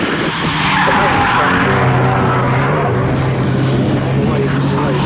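Race cars from the Carbon8 Coupe Cup at Snetterton roar past side by side, a loud sustained engine drone with tyre noise filling the whole clip, with a voice talking over it.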